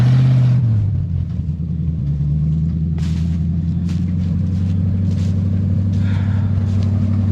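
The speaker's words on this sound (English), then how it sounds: "That engine, listen to that thing run." Old 1961 Willys Jeep engine, revived after decades of sitting, running at a steady rough idle up close, a continuous low rumble with faint clanks and rattles on top, no talking.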